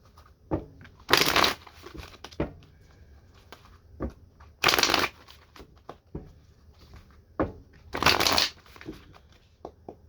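Tarot cards are shuffled close by in three distinct riffling bursts, each about a second long, separated by quieter handling taps and rustles.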